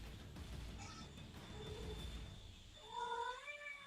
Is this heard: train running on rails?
no